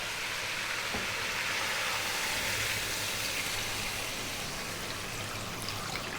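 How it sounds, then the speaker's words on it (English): Water is poured into a hot pan of browned chicken for a spicy chicken soup, giving a steady, loud rushing hiss and sizzle that holds evenly throughout with no talking. "What we're going to do now is add water."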